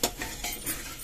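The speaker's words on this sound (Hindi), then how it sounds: "काली मिर्च और लौंग और तेज पत्ते और मोटी इलायची डाल के इसको भूनना है" Black pepper, cloves, bay leaves and black cardamom dry-roasting in a pan, a soft steady sizzle broken by a few brief stirring scrapes, close and alone.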